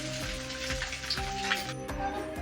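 A dosa frying on a hot pan just after being flipped, giving off a steady close sizzle with fine crackling and a few soft taps.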